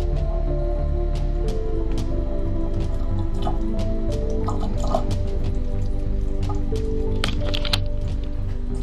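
Water trickles from a tap in a steady stream, with scattered drips and small splashes close by and a low hum underneath.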